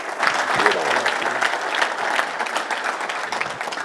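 An audience cheers and applauds a friend's introduction, steady dense clapping mixed with whoops and crowd voices that stay loud for the whole stretch.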